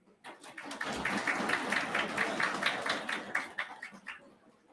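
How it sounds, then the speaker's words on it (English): An audience at a WHO simulation closing ceremony claps for the delegates, rising quickly into steady applause that thins and fades toward the end, fairly soft and distant. "please give them a round of applause"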